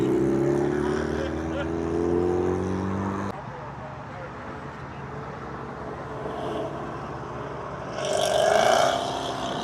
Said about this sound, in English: The STI leaving right here.